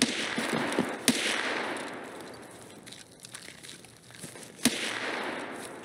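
Gunfire in Escape from Tarkov (SPT) from a sniper scav in a wooded area: two sharp, distant single shots about three and a half seconds apart over a steady outdoor ambience.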